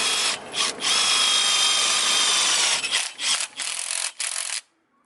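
A power drill tightens a part on a sedan with a loud, close, steady whir that breaks into several short bursts before stopping.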